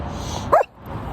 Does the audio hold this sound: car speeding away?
no